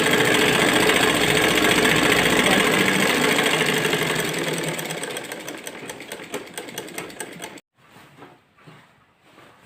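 A sewing machine stitches a seam on a four-panel salwar, whirring loudly and steadily up close, then slowing into a series of separate thumps before a brief stop and a few final slow stitches.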